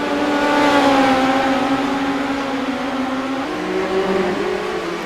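USAC midget race cars scream around Williams Grove in an iRacing sim race, engines droning loudly at high revs with a steady whine that drops in pitch midway as they dive into a turn.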